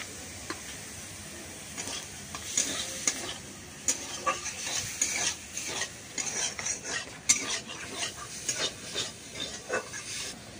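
River snails fry with salt and turmeric in a pan, a soft sizzle under repeated scraping and stirring of a metal utensil, no voices.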